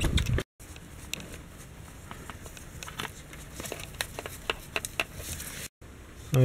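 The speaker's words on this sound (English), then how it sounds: "Ah, rain!" Rain falling outdoors makes a steady soft hiss, with scattered drops tapping and pattering irregularly throughout and two brief dropouts of sound; no one speaks.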